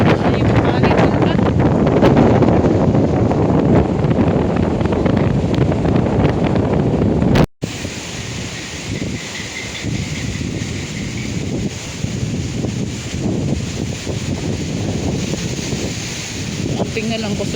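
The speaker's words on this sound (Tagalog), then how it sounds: "Still the wind is very strong." Strong typhoon wind from Typhoon Noul roars and buffets the microphone in a loud, continuous rush. After a brief dropout it continues slightly calmer but still blustery.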